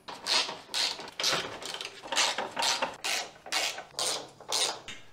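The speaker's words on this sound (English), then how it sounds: "So now we're going to remove four 13mm nuts and one 13mm bolt" Ratchet removing four 13mm nuts and a 13mm bolt on a MINI Cooper during radiator replacement work, giving a steady series of about ten rhythmic rasping clicking bursts, close and moderately loud, with no talking.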